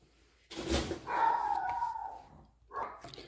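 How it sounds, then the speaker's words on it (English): A dog barks and then lets out a drawn-out, howling bark, followed by a shorter bark, close and fairly loud. "I have the noisiest barking dog ever"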